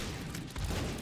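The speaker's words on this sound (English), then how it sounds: "let's add more explosions to this" Rapid burst of explosions in The Binding of Isaac: Repentance, a dense, continuous rumble of booms lasting about a second and swelling louder midway, with no talking.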